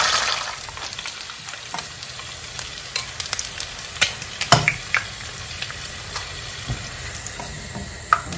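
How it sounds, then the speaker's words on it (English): Eggs frying in hot oil for a Ghanaian waakye meal give a continuous crackling sizzle, with scattered sharper pops and spatters rising through the middle, and no voices. "we are going to fry our eggs a little bit to get that golden color"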